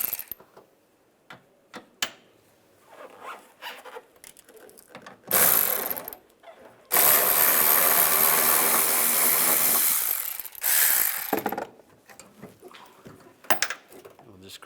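Ratchet wrench loosening the hood hinge bolts on a 2007-2013 Chevrolet Silverado 1500, heard as short bursts of quick mechanical clicking with two longer, louder runs in the middle, close up, with quiet pauses and faint handling noises between.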